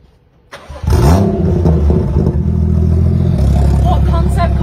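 A BMW concept car cranks and fires up, with a sharp catch followed by a loud, rough idle that settles lower partway through. The sound is close and forceful, and voices can be heard faintly in the background.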